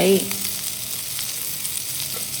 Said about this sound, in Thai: เหลือน้ำมันไว้เล็กน้อย แล้วก็ใส่หอมแดงกระเทียมลงไปค่ะ